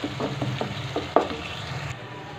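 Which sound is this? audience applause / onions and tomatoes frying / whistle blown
onions and tomatoes frying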